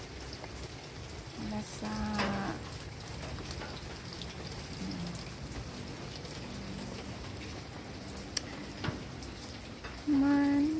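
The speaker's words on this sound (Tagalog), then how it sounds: "Malakas ang hangin at ulan." Heavy rain pours steadily on a banana farm under strong wind, a dense hiss of drops with occasional louder patters. A voice speaks briefly near the end.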